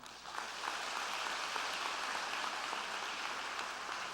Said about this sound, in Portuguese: Aplauda isso